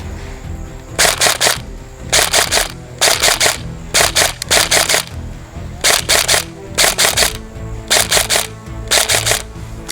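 A Bolt B4A1 SOPMOD airsoft rifle with recoil firing repeated short bursts of sharp, rapid cracks, about a dozen evenly spaced volleys, loud and close.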